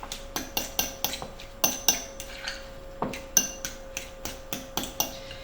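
A utensil mashes and mixes deviled egg yolk filling in a bowl, with a steady series of sharp metallic clinks and taps against the dish, roughly two or three per second and close up. Nobody speaks.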